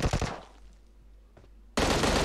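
Gunfire in the video game PUBG Mobile: a quick burst of close, loud shots, then a single distant crack, followed by a sudden sustained loud blast of automatic fire.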